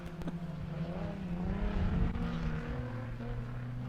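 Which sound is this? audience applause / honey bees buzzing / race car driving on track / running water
race car driving on track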